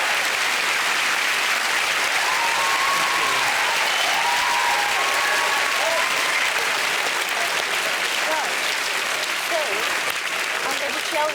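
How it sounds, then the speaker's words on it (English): A studio audience on a British comedy panel show breaks into sustained applause, dense and steady clapping filling the whole stretch at a constant loud level with a few scattered cheers. "that is worth a round of applause"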